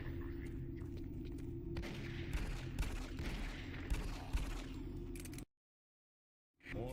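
Gunfire and booming blasts from the Doom 3 video game play as a dense, constant barrage over a low hum, then cut off into silence for about a second before the game sound returns.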